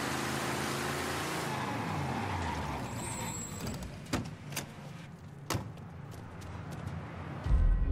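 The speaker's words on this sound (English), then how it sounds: "Man, this car sounds so powerful. Listen to that engine purr." A powerful car engine in the Mafia III video game, idling and revving in low rumbling tones, with clicks and a louder thump near the end.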